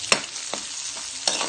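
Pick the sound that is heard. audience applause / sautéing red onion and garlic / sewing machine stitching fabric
sautéing red onion and garlic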